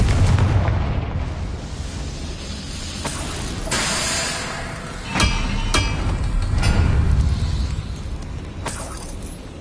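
Confringo fire spell in the video game Hogwarts Legacy, played on PS5: repeated sharp, loud explosive bursts and impacts, several distinct hits spaced over a constant roar of combat noise.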